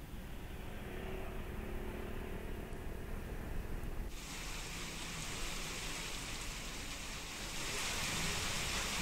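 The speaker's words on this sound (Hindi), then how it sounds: "हो रही भारी वर्षा से लोगों को नुकसान तो हो ही रहा है" Heavy rain falls steadily during a storm with strong winds in Jalaun, where roadside trees were uprooted; a dense, loud wash of rainfall fills the whole clip, growing stronger and brighter partway through, with no one speaking.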